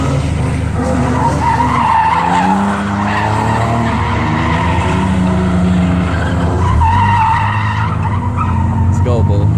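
A Nissan 300ZX drift car does a second gear burnout, its engine roaring loud and close over sustained screeching tire squeal, with voices talking over it.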